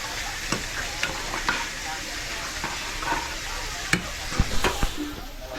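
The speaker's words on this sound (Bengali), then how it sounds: "সোয়াবিন আর আলুটা একটু তেলে ভেজে নিচ্ছি" Oil hisses and crackles steadily as soybean chunks and potato fry in a pan, broken by sharp scraping taps of a spatula stirring now and then.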